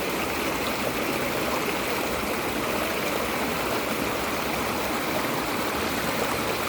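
Water gushing from a hose into a container beside a river spring in Hong Kong, a dense, steady rushing flow that holds constant throughout, close by and with no voices.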